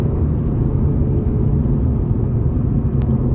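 A Honda Civic Type R FN2 with nearly 380,000 km drives along a mountain road, its engine and tyre roar a steady low rumble heard from inside the cabin.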